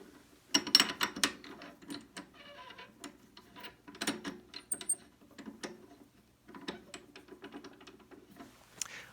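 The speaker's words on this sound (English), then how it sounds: "Now it's time to mount the piece on the lathe in this 4-jaw chuck." Wooden workpiece being fitted into a four-jaw lathe chuck for woodturning, heard as a series of close, sharp metallic clicks, knocks and rattles in irregular bursts with short quiet gaps, no talking.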